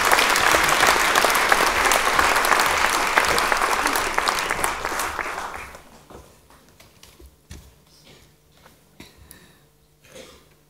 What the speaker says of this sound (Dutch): Applaus graag.